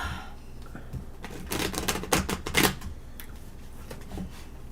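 Tarot card decks shuffled by hand, a run of crisp riffling and flapping bursts that builds to a louder clatter mid-clip, then softer taps and slides, close and alone with no talk.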